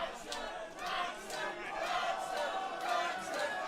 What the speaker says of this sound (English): The crowd chant Wrexham, the hometown of Vim.